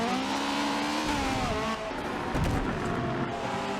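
Racing cars from the 1980s in a sim racing game roar past with engines revving and shifting pitch, tires briefly scrubbing as cars slide into grass, loud and continuous with no talking.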